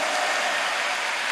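A church congregation at the eighth Osanri revival meeting applauds, a dense, continuous wash of many hands clapping together for the whole brief moment.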